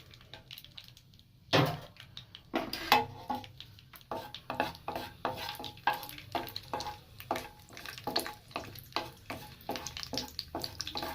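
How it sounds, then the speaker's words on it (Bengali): Peanuts fry in hot ghee in a pan, with a soft sizzle under repeated sharp scraping and clattering stirs against the metal, close by and uneven in rhythm. "প্রথমে দিলাম চিনেবাদামটা ফ্রাই হতে"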